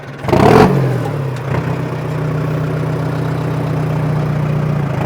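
A vintage Cummins tow truck engine revs up sharply, then settles into a steady, loud low rumble that continues without pause.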